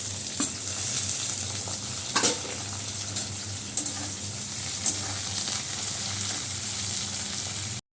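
Chopped onion, tomato and green chilli frying in a pan after a black cumin tempering, a steady broadband sizzle with occasional scrapes of stirring, continuous and close, no voices.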